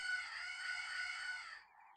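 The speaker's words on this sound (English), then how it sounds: "Annoying birds." A single bird squawk in the game Final Profit: A Shop RPG, one drawn-out harmonic cry close and clear, lasting over a second before trailing off into a fainter tail.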